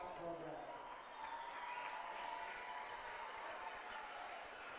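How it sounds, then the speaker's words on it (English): Crowd at a high school football game between Fort Scott and Parsons gives a moderate, distant round of applause that fades in and out beneath an announcer talking over the stadium speakers. "Please give a hand to our Parsons High School robotics program."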